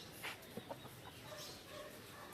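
Free-range native country chickens cluck in a few short, scattered bursts over a low, steady outdoor background.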